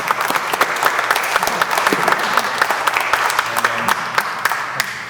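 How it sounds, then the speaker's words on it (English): Audience applause fills a community forum room, a dense, steady round of clapping that stays loud and even throughout, with faint voices mixed in beneath the claps. "let's give our folks a round of applause again to thank them."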